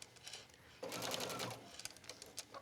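Sewing machine stitching a towel hoodie, a steady fast mechanical chatter that picks up and runs on briefly, close and clear with no talking.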